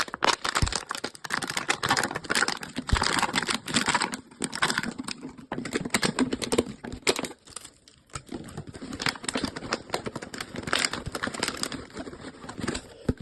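Material is cut and taped for an air conditioner's hot-air exhaust, making a steady run of close crinkling, snipping and rustling handling noises. The sounds stay fairly quiet and continuous throughout, with no speech.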